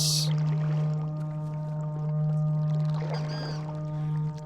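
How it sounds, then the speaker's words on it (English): A deep, sustained low drone like a foghorn in a video game hums throughout, with faint watery splashes and creaks layered above it. "almost sounds like a foghorn going off"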